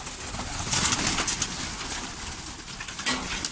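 A flock of fancy pigeons coos nearby, a dense continuous burble of overlapping calls filling a loft with no voices over it.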